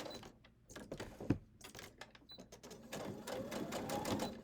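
A sewing machine runs in short bursts while back stitching the corner of a quilted sunflower coaster, its rapid needle clatter close and steady with small pauses, and a voice speaks faintly at times.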